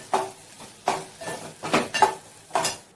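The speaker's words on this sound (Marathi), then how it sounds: "आता हा मसाला सुद्धा हलवून घेते" A spoon stirs red chilli masala into drumstick vegetable in a pan, making five or six separate scraping strokes with light metallic clinks and a faint sizzle. Close and fairly quiet, with no talking.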